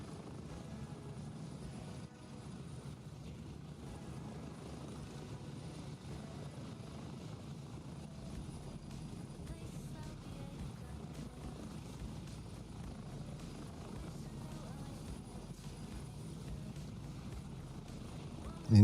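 Helicopter rotor and engine in the military shooter Gray Zone Warfare, a steady, continuous droning thrum with a low pulsing churn, held at even loudness throughout.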